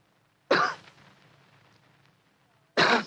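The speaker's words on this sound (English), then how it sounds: "After a moment, he gave what he thought was a discreet cough." Two short, sharp coughs sound close by, separated by about two seconds of near silence.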